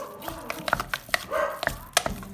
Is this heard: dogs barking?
yes